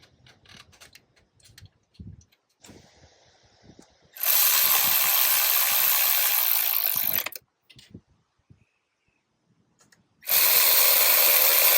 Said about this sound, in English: we want to get the 3 bolts and the 2 nuts back on. And you want to torque these down.